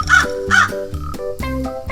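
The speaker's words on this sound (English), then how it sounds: "Next up is crow." A crow caws loudly in a run of harsh, evenly spaced calls, clear and alone with no talk over it.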